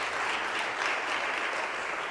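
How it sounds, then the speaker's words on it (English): A crowd at the EDHE Lekgotla 2025 gathering applauds Moyo Collection with dense, steady clapping, a full even wash of sound throughout. "Can we give them a round of applause again"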